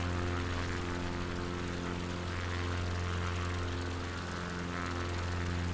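The engine of a small, twitchy propeller plane in Microsoft Flight Simulator drones at steady revs, a constant loud buzzing hum with no break and no talk.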